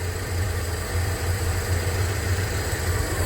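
Two newly fitted race cooling fans run steadily on a campervan engine, giving a continuous close whir over a low engine hum with no talk.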